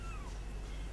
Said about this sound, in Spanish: Pero mire, pero es unos gatos preciosos.